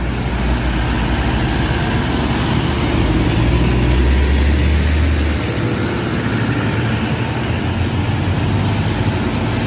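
A Hino truck engine idling steadily with a loud, continuous low rumble, heard close and on its own without talking.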